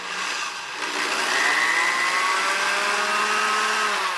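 A steady, high-pitched power drill whines continuously as it bites into the metal of a Virago starter ring gear, loud and close, with no talking.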